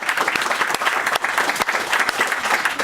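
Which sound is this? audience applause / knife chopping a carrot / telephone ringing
audience applause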